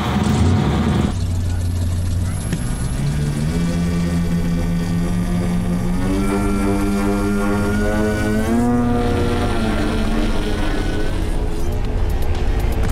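A foam RC model airplane's propeller motor whines as it takes off on a first flight. The pitch climbs and wavers as the throttle rises, loud and near throughout.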